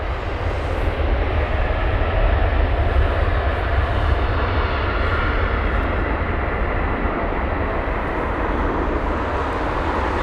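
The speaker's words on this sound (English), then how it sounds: "And there it is, the Emirates A380." An Emirates Airbus A380 lands at London Heathrow, its jet engines making a loud, steady, broad roar that fills the whole stretch without a break.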